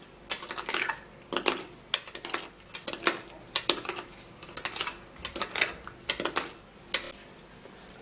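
Baking soda and honey mixture being stirred, quick clinking and scraping strokes in a rapid irregular rhythm, close and fairly crisp, with no talking.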